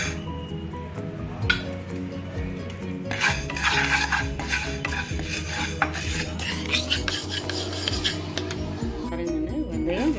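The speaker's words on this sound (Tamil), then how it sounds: "வெந்தயம் நல்லா வறுவட்டுச்சு." Fenugreek seeds dry roasting in a pan for homemade rasam powder, with steady scraping and stirring clinks of a spoon against the metal, continuous and close, under background music.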